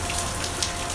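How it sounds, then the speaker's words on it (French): Steady rain falling at a campsite in New Zealand, a dense even hiss of drops with no gaps, moderately loud and heard alone. "il pleut comme ça depuis"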